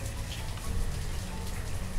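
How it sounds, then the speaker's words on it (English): Rain falls steadily in the medieval town-building game Banished during late winter, a dense even patter with no voices. "it's late winter and it's raining"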